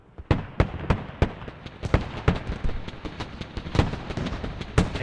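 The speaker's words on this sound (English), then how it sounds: "now you have the Leopard taking a shot at the BMP" Battle sounds from a war video game as a Leopard tank fires at a BMP: a rapid, irregular run of sharp cracks and bangs, some loud and close, others fainter, over a low rumbling background.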